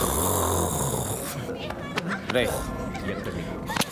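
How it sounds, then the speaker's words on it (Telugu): A man snores loudly with rough, rasping breaths, mixed with other voices and background sound from a Telugu comedy film scene. "నీ గురక్క నాకు డైలాగ్ వినపట్లేదు"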